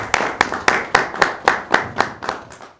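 Audience at a Christmas mushaira clapping to welcome a poet, about ten sharp, evenly spaced claps in unison that slow slightly and fade at the end, with no voices.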